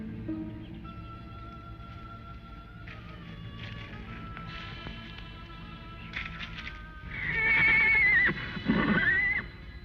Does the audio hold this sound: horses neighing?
yes